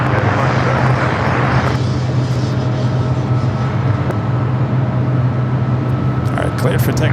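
A jet airliner takes off from Los Angeles LAX, its engines making a loud, continuous roar that holds steady throughout, close and without pause.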